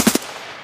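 An MP7 submachine gun in Escape from Tarkov fires two quick, sharp shots in rapid succession, followed by a short fading tail.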